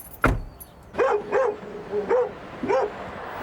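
Dogs barking in a series of short, loud barks, several spaced bursts close by during a police roadside stop, with a car's power window and engine in the background.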